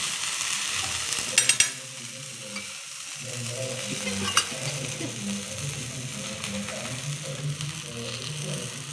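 Coriander dhapate, a flatbread, frying in oil on a pan, with a soft continuous sizzle and a few sharp scraping clicks early on as the bread is lifted and turned.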